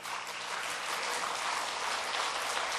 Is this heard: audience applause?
yes